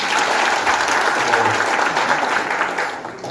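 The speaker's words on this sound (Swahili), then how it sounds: "Tupigie Deno makofi." An audience applauds steadily and loudly for Deno at a Kenyan public gathering, the dense clapping sustained throughout with faint crowd noise.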